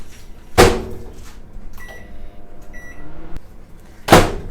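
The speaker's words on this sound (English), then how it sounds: "We're going to chuck this in the microwave for about 1 minute so that it's really soft." A microwave oven softening shortening for buttercream: a loud door slam opens the sequence, then a low steady hum runs with a few faint beeps before a second sharp door thud, with no voices.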